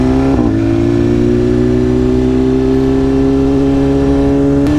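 A motorcycle engine idles and revs steadily with the wheelie control switched off and power mode set to 2. It gives a continuous, close, loud hum with a slight rise in pitch, and no voices can be heard.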